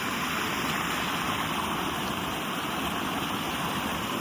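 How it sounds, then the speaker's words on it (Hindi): Loud, steady roar of a rushing Himalayan mountain stream on the trek from Badrinath to Charan Paduka, a dense continuous wash of cold fast water close by with no pauses. "पानी का बहाव, पानी का शोर सुनिए"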